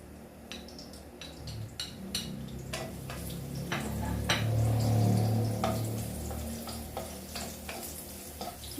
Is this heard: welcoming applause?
no